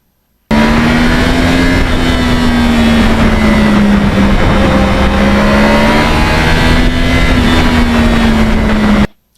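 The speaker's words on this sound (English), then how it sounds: "this bike has a unique sound when you back off the gas." 2009 Yamaha R1 motorcycle with crossplane engine, rider backing off the gas: a loud, close, continuous engine drone holding a steady note with a slight wavering in pitch for about nine seconds, then cutting off abruptly.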